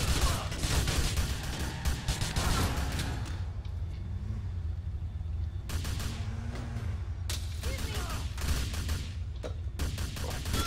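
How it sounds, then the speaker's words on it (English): Bursts of rapid gunfire in a video game, dense volleys of shots with bullets flying, loud and close, broken by short quieter stretches before firing resumes. "I got a bunch of bullets flying at me."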